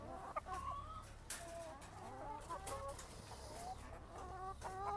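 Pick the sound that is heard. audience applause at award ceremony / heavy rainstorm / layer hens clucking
layer hens clucking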